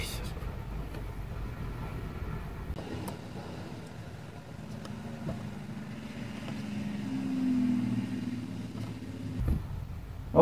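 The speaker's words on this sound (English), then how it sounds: "That truck is so damn loud." A loud truck passes close by, its deep engine rumble swelling over several seconds and fading near the end, with a person talking over it.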